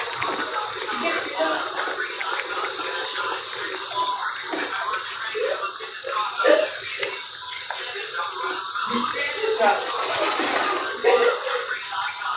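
Running water splashes steadily while utensils are rinsed and washed in a home kitchen during cooking, with brief clinks of dishes and a voice talking over the continuous flow.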